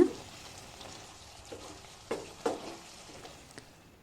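Squid pepper masala cooking in a pan: a faint, low sizzle with a few sporadic soft pops and ticks scattered across a few seconds, no talking.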